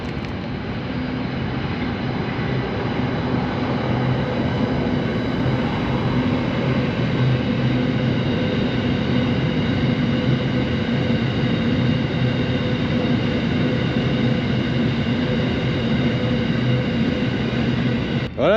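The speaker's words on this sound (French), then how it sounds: "Train." Steady loud rumble of a train passing a small station in the Australian outback, a continuous droning roar that holds evenly for the whole stretch, with no talk.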